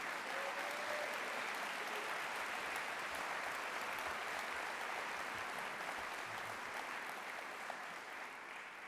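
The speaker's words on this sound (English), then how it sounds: "Let's give them a big round of applause." Convocation audience at Cal Poly applauding new faculty and staff, a dense, steady wash of clapping that holds at full strength for about nine seconds and eases slightly at the end.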